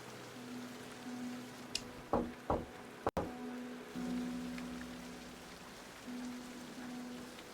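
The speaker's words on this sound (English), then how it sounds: "All this rain should help this tree grow." Steady rain hisses in the video game King's Quest, with a few hollow knocks and one sharp click standing out over the constant downpour.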